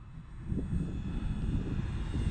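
An Arrows Trekker RC plane passes low and slow down a runway, its electric motor a faint, steady droning buzz over light wind rumble, with no voices.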